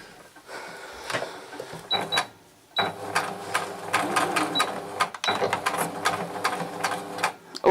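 A sewing machine stitches fleece fabric for a hat in a steady, fast mechanical rattle, pausing briefly a couple of times before running on, close and clear.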